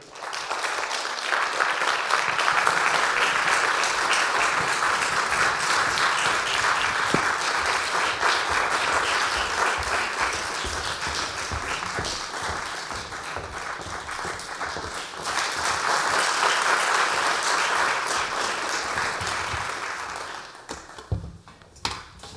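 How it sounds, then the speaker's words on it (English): Concert audience giving a long round of applause for a string quartet taking the stage, a dense sustained clapping that dips briefly mid-way, swells again, then tapers off into scattered final claps. "So give a round of applause."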